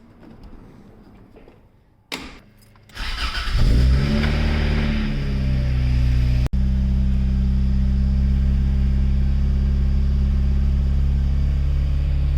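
Toyota AE86 with a 4AGE 16V engine cranks briefly, fires up and revs, then settles into a loud, steady idle close to the microphone, with a sharp click near the end.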